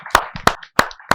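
Audience applause for a poet at a Hindi kavi sammelan comes as four sharp, loud clapping bursts spaced evenly, each quickly dying away, with no talk over them.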